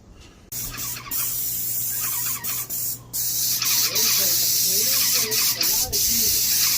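Steady hissing spray from a paint sprayer repainting the exterior of a 125-year-old historic Texas home runs almost continuously, briefly cutting out a couple of times, while a person talks quietly underneath and a low hum persists.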